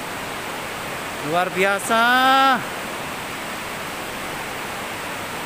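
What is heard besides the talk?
Tumpak Sewu waterfall at its base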